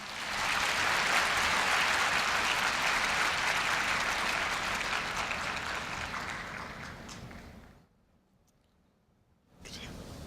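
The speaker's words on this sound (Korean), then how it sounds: "큰 박수 부탁드립니다." A large crowd applauds at a university entrance ceremony for new students in a big hall, loud sustained clapping for about eight seconds that fades out, followed by a brief quiet before the room noise returns.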